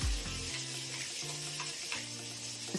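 Ground green masala paste fries in hot oil in a kadai for a green mutton gravy, giving a close, continuous sizzle with scraping stirring strokes throughout.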